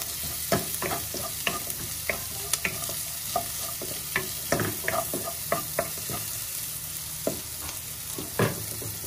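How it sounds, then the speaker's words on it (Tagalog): Onions sizzle in a pan without added oil while a utensil stirs them, scraping and clacking in quick irregular bursts over a constant close frying hiss. "Lutuin lang natin ng konti yung kanyang sibuyas."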